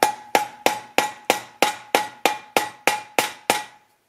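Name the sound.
hammering on car part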